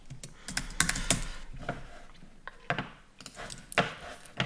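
Keys clatter on a computer keyboard while text is entered during an After Effects tutorial, a close, uneven burst of sharp clicks with brief pauses, no talk over it.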